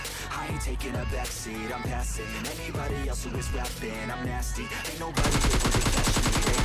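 Gunfire in the video game PUBG Lite comes in rapid automatic bursts and repeated shots. It stays loud and dense throughout and grows heavier in the final second and a half.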